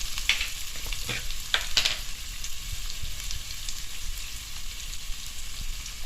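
Curry leaves and salt sauté in a hot pan for soya meat curry, making a steady close sizzle with light crackling pops and occasional stirring throughout.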